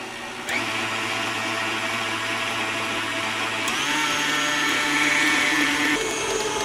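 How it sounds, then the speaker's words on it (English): Liquid doughnut batter for oven-baked jelly doughnuts being beaten with an electric mixer, a steady loud motor whir running continuously with a slight pitch rise partway through, no voices. "Now we're going to mix this up, and you beat it for about 2 minutes."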